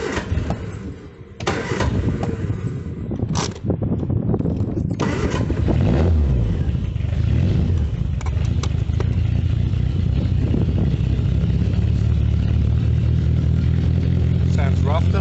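A 1973 Triumph Spitfire 1500 MkIV engine running rough, cranking and catching with clattery bursts, then settling into an uneven, loud idle; a voice talks during the first seconds.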